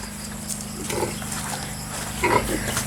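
Pigs grunt and snuffle a few times against a low background hum, with a sharper squeal-like grunt near the end.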